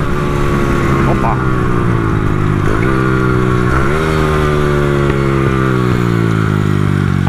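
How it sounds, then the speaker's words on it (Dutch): A 140cc Honda Dax motorcycle engine runs loud and close, its exhaust droning steadily with gear changes and pitch shifts as it revs and pulls, with occasional rough pops in the note. "Uitlaat ploffen, ja."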